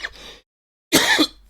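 A man clears his throat and coughs from post-nasal drip, two harsh bursts close to the microphone separated by a short silence.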